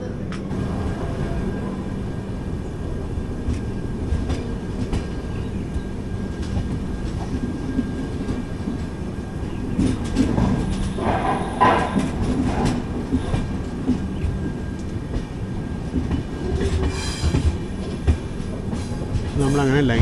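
The 12077 Jan Shatabdi Express, heard from its AC chair car between Chennai Central and Vijayawada, rumbles along steadily with wheel clatter and clanks growing sharper as it crosses over lines.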